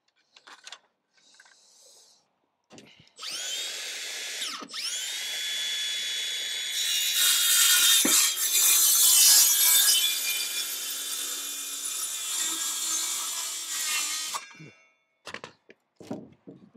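A circular saw rips through wood on a garden room roofing job, with a loud, sustained whining cut lasting about eleven seconds that rises in pitch midway. Brief knocks and clatter come before and after the cut.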